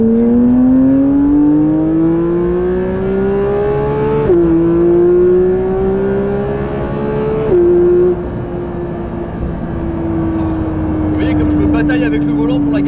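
A Porsche 992 GT3 engine revs hard and climbs through the gears, its high-pitched wail rising steadily before dropping at two shifts, then holding a loud, sustained note.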